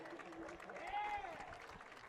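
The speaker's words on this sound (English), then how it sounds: "And some applause from both crowds here." Spectators from both sides at a Snow Canyon vs Pine View high school football game applauding an injured player, faint, distant patter of clapping across the stands under a commentator's talk.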